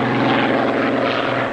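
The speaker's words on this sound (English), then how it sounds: "What made it such a sensation was its fabulous engine, 27 litres of supercharged Rolls-Royce V12," Supercharged 27-litre Rolls-Royce Merlin V12 engine of a Spitfire roars loud and steady, a dense continuous propeller drone with no pauses.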